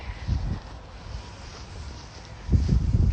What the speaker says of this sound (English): Try to block this wind for you guys.